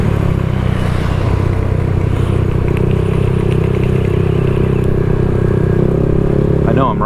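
A motorcycle rolls steadily along a city street in Angeles City, its engine droning continuously with constant road and wind rumble and a brief horn-like tone near the end.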